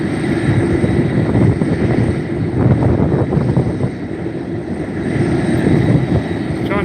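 A McDonnell Douglas MD-11 airliner departing Reno airport, its jet engines producing a steady, loud, broadband roar that swells and eases slightly while the aircraft stays fairly close throughout.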